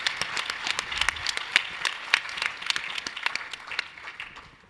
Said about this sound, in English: Everybody, please give a big round of applause for Jake and FlyCode.